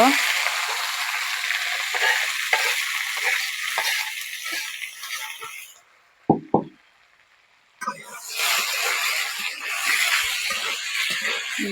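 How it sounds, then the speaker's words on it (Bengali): Fried vegetables poured into reddening onions in hot oil, giving a loud broadband sizzle that drops away briefly with a couple of knocks, then surges back; a voice speaks alongside. "পেঁয়াজগুলো আমার লাল হয়ে আসছে এখন আমি ভাজিগুলো ঢেলে দিব"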